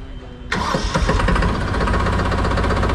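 A Massey Ferguson 5225 tractor engine cranks and fires up, settling straight into a loud, close, rough diesel idle with knocking clatter.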